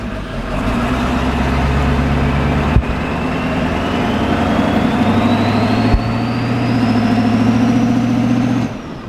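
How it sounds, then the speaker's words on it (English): A 7.3 Powerstroke diesel truck with a new downpipe and 5-inch exhaust rumbles steadily, its turbo spooling as a thin whistle that climbs gradually in pitch over several seconds, close and continuous. "It's just turbo noises the whole time."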